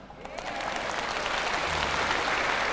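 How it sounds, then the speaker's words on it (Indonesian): Lecture audience applauding in a hall, a thick, sustained wash of many clapping hands that swells slightly and stays loud throughout, with no speech over it. "Mana tepuk tangannya?"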